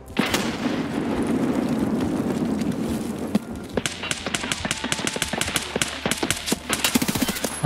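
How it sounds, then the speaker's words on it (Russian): Enemy gunfire in Escape from Tarkov, rapid sharp shots cracking in quick irregular bursts after an opening rumble, fairly close and loud, with no talk in the clip. "А он по мне уже стреляет"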